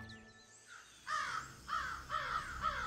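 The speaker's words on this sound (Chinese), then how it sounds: "这一大早就有乌鸦叫个不停啊。" Crows caw early in the morning, about four loud, harsh calls following one another at a slow, even pace, with no one speaking.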